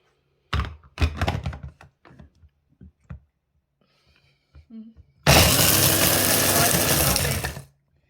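A blender briefly whizzes Oreo cookies into crumbs, a loud dense roar of a couple of seconds that comes after clattering and talking nearby.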